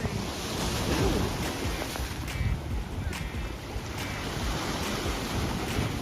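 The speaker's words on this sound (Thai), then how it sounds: "บรรยากาศทะเลยามเช้า" Morning sea surf at a beach rolling in as a steady, close roar of breaking waves, mixed with wind buffeting the microphone.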